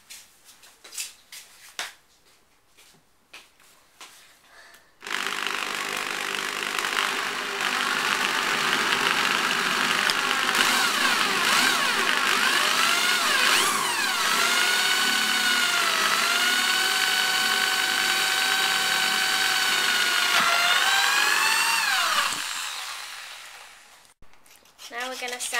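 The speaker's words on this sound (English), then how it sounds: "drill a bigger hole for the perch" After some faint clicks, a power drill whirs steadily for about seventeen seconds, its pitch dipping and rising as it bores a perch hole in a wooden bird box, then winds down.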